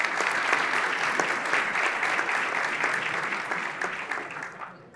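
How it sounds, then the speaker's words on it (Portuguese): An audience at a business event applauds to welcome a speaker to the stage, a dense, steady wash of clapping from many hands that gradually thins out toward the end. "Uma salva de palmas."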